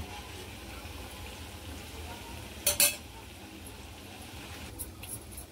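Fish egg (roe) pakodas frying in oil over a low flame give a steady, soft sizzle throughout, with a brief louder crackle partway as the pieces are turned.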